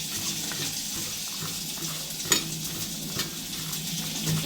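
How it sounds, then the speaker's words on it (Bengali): Pointed gourd being mixed by hand with onion, tomato, salt, a little sugar and raw oil makes moist, squelchy rubbing and soft wet slaps at close range, quiet and irregular, with a couple of sharper clicks. "কাঁচা তেল দিয়ে ভালো করে এটাকে মাখিয়ে নেব"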